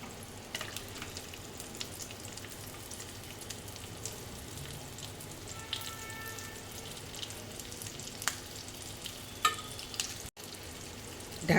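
Stuffed capsicums, spread out in a covered pan so they roast on all sides, give a faint, steady, even sizzle with a few small pops and no talk.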